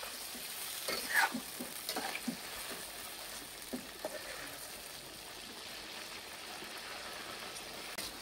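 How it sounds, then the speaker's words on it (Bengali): Chicken pieces frying in hot oil for chicken bhuna khichuri, a continuous dense sizzle and crackle close by, with a few louder pops early on. "আমি প্রায় 10 মিনিট পর চিকেনগুলো ফ্রাই করতেছি।"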